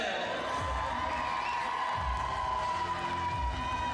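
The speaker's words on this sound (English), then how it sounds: "it's not hard to hear who the passionate home fans are cheering for" Home fans cheer steadily through a taekwondo Grand Prix para semifinal bout in a Manchester arena, a dense, sustained crowd roar with swelling shouts and whoops, plus faint low thumps from the mat.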